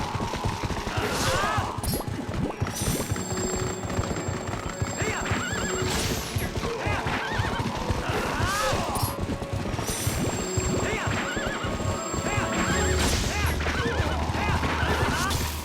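Epona, the horse in the video game Twilight Princess, gallops with rapid, rhythmic clip-clop hoofbeats and lets out several loud whinnies and neighs at intervals, with occasional crashing game effects mixed in.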